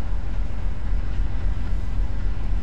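Steady low rumble of a train getting underway in the railroad game Rails Unlimited Classic, a continuous heavy drone holding at an even level throughout with no talking.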